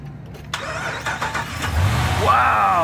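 A car engine cranks and catches after a boost from a NOCO battery jump starter, the starter whir rising into a steady running idle that grows slightly louder, with faint speech underneath.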